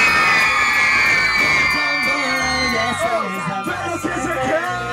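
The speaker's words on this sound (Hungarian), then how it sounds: "3-1 hatalmas sikítás, figyelj!" A party crowd at a MAX BASS party screams and cheers loudly on cue over thumping music, a dense roar of voices that swells and then trails off amid shouting.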